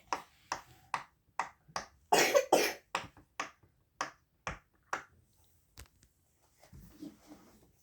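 A series of sharp, crisp pops in a quick irregular rhythm, about a dozen close snaps, a few louder ones in the middle, then quieter pops trailing off.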